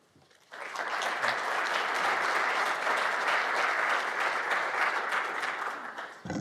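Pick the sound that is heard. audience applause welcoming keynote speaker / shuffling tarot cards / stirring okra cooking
audience applause welcoming keynote speaker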